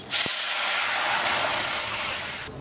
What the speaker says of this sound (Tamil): நம்ம கரைச்சி வச்சுக்கிற ரசத்தை ஊற்றிக்கலாம்.